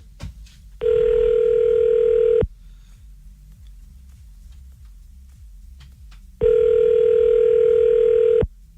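Telephone ringing tone heard while a call to a number is being placed, two long steady electronic tone bursts separated by a pause, loud and clear with no talk.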